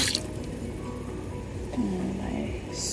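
Water runs from the tap into a camp kitchen sink, a steady close splashing trickle with small drips and gurgles and no voices.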